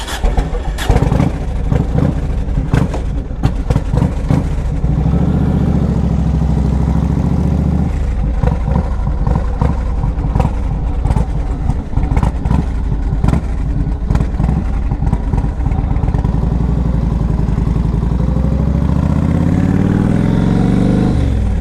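A 2005 Yamaha Road Star, a 1700cc air-cooled motorcycle, runs loud and close on a test drive, its engine chugging through repeated revs and gear changes, then settling into a steady rising drone.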